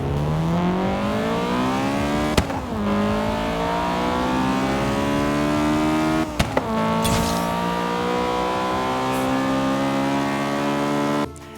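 A Honda DC2 Integra Type R engine revs hard through the gears. Each climbing wail breaks off at a sharp shift, then builds again, loud and close, with no talking.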